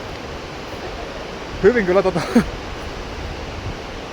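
A mountain river in a high valley at about 2,500 metres rushes as a steady broadband roar, close and constant, with someone speaking briefly in the middle.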